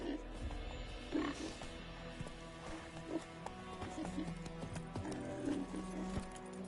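Horse hooves clip-clop in the video game Witcher 3 on PS5, a steady, even walking rhythm of soft hoof falls heard faintly over a quiet game backdrop.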